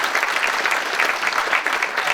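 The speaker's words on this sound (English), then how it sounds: "Give me a round of applause for that" Audience applause fills a room at a health and wealth summit in Tiverton, a dense, steady wash of many hands clapping at once, loud and continuous with no talk over it.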